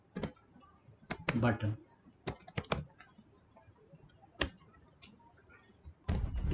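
Fingers tap a computer keyboard in short bursts of close, crisp keystrokes while someone talks over them.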